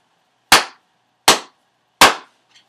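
Three sharp, loud hand claps spaced evenly apart, a short rhythm played alone for listeners to copy, with a faint tap trailing after.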